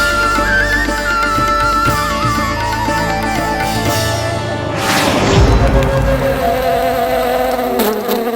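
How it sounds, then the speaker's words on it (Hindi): A housefly buzzes loudly and continuously at close range, its drone wavering in pitch as it moves around and rising briefly with a thump partway through. "लगता है मक्खी थक गई है,"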